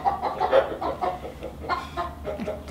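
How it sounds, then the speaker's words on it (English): Chickens on a homestead cluck in a loose, uneven series of short calls, fairly close and alone with no talk over them. "Chickens."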